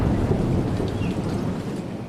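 Heavy rain pours steadily in a thunderstorm, a dense, continuous wash of noise with low rumbling underneath, loud and unbroken for the whole stretch, with no voices.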